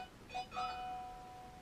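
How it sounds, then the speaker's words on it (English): A mobile phone rings with two short tonal chirps close together near the start, after which a thin sustained tone lingers faintly over a quiet room. "sorry, that was my phone"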